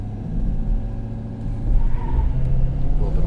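A 2017 Ford F-250 Super Duty 4x4 pulls away hard from a standstill, its engine rumbling loud and close as it builds revs, with a faint brief chirp of wheel spin.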